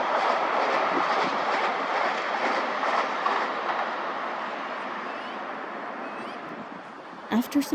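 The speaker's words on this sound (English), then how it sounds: "After some waiting, the streetcar finally made its journey back across the high-level bridge." A vintage streetcar on the Edmonton Radial Railway crosses the high-level bridge in Edmonton, Alberta, with a steady rolling rumble and rattle that slowly fades, ending in a few sharp knocks, while a voice talks over it.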